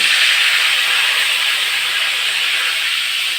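Bay leaf and whole spices hit hot oil for a soybean curry, producing a loud, dense, unbroken hiss that holds evenly for a few seconds with no talking.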